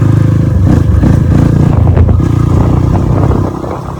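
Dirt bike engine running steadily with a loud, close, buzzing drone and heavy wind rumble, holding constant before easing slightly at the end.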